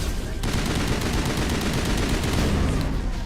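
Sustained assault-rifle fire in Mass Effect: a long, rapid, evenly spaced stream of loud shots that starts abruptly and runs without a break, nothing else competing.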